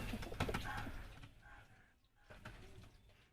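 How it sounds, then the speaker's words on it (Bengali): A caged male pigeon coos softly in low rolling phrases, close but faint, with a slight rattle of the cage in a quiet room. "নর পায়রা এটা।"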